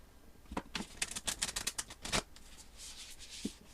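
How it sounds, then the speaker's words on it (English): Tarot cards being shuffled in a quick riffle, a burst of crisp flicking snaps that settles into a soft, steady rustle, close and alone. "I'm going to shuffle up the cards."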